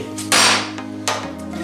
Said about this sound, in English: tried to hammer down